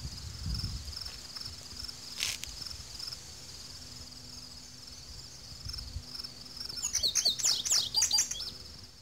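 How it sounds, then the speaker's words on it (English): A bird sings outdoors on a wooded trail near the Delaware Water Gap, giving a sharp chirp early on and then a quick, bright burst of trilling notes near the end, over a faint background of insects. "enjoy this picturesque view and the song of a bird as it sings"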